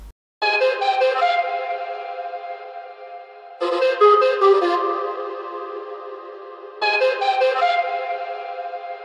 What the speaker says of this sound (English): I warped it in time, I set tempo to 150, transposed it 4 semitones down, and now it sounds something like this.